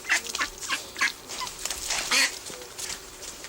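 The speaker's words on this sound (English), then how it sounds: "It's a very handsome duck." A handsome duck being looked after at a wildlife rescue gives a run of soft quacks and honks close by, several short calls in quick succession at low volume.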